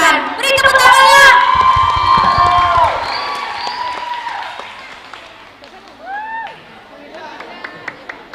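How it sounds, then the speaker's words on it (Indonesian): A school farewell ceremony audience cheers and whoops with scattered clapping, loud at first and then fading, while excited voices shout over it. "Beri tepuk tangannya."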